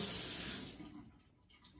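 Kitchen tap runs with a loud steady rush of water that tapers off after about a second, leaving a quieter trickle and faint room sounds.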